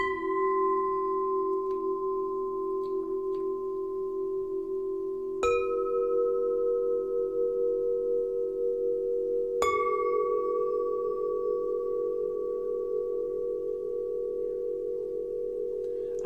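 Sunreed Instruments tubular healing chimes ring out in clear, sustained tones, with two fresh strikes landing partway through and each note left to hang and blend over the others.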